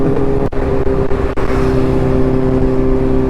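Two superbikes with identical loud aftermarket exhausts run together, Suzuki GSX-1000 and Kawasaki Z900 types, giving a close, loud, steady engine drone with strong humming tones and a couple of brief dips.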